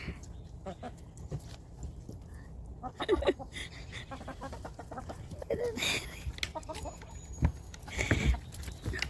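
Backyard chickens cluck and peck while eating persimmon and bread, giving scattered soft clucks and scratching sounds at close range, with occasional louder bursts.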